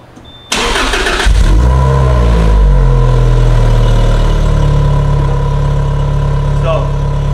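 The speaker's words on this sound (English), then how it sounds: "I'm gonna start the car and let you guys listen to the stock exhaust." Lotus Exige with its stock exhaust cold-starting: a brief crank, then the engine catches abruptly and settles into a loud, steady idle that fills the rest of the stretch.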